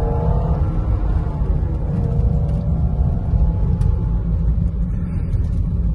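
A turbocharged Mercedes C250 W204 engine drones loudly from inside the cabin, its pitch rising slowly under full throttle with a steady low rumble throughout.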